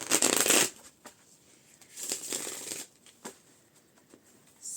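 A well-worn deck of playing cards is riffle shuffled nearby, with a loud opening burst of flicking cards followed by softer riffles, taps and a second rustling shuffle.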